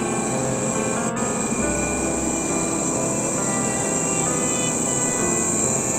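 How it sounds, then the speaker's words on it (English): Steady rumbling drone inside a Nozomi N700 Shinkansen bullet train in Japan, a constant broadband rush of motion with a brief tick near the start, no voices. "Today, we are boarding the Nozomi Shinkansen, or N700, the fastest train in Japan."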